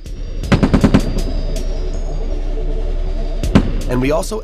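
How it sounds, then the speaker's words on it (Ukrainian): Short bursts of rapid automatic gunfire from an FN P90 submachine gun, a quick string of loud shots, then a lone shot later, with a voice near the end. "Ми постріляємо з ФНП-90."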